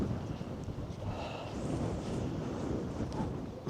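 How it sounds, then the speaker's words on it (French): Strong wind roars and buffets the microphone in a steady low rumble, with no one speaking. "il y a du vent de fou"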